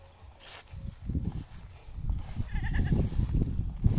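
A goat in hot weather, tethered with its rope tangled, gives a couple of faint short bleats amid shuffling hoof and rustling sounds close by.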